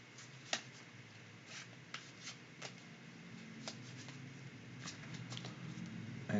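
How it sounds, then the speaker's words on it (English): Soft, close-up papery riffling and flicks of tarot cards being shuffled by hand, quiet and irregular, with no voices. "I'm just going to keep shuffling here for just a moment longer"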